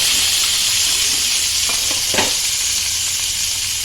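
Capsicum, green chilli and onion hit hot oil in a pan and fry with a loud, dense, continuous sizzle, broken by a few brief stirring scrapes. The sound is close, with no voices.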